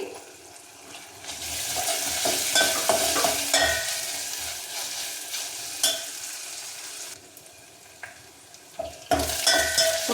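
Spices and curry leaves fry and get stirred in a pan for Rayalaseema-style pachi pulusu, a steady close sizzle broken by scraping spoon strokes, with a brief dip in the middle and no talking.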